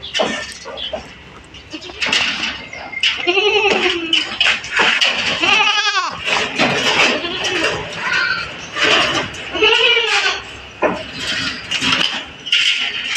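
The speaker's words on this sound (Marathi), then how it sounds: "असे हे तीन पिल्ले एका शेळीचे आहेत" Goats and their young kids bleat on a goat farm, several close, loud, wavering cries overlapping at irregular intervals while someone talks over the animals between calls.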